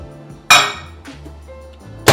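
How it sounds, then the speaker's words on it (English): A mug is set down inside a microwave with a sharp ceramic clink against the glass, followed moments later by another knock, over a faint background hum. "Now put the mug into the microwave."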